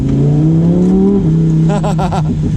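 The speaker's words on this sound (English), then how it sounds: "the exhaust is on its loudest setting" A Lamborghini Huracan Performante engine roars close and loud, exhaust on its loudest setting, revving up through a rising pitch before dropping as the gear changes, with crackling bursts from the exhaust.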